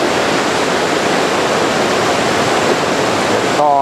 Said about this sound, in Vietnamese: Cái suối này to lắm.